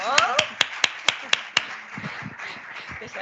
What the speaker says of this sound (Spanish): Un aplauso para Alba, ¿no?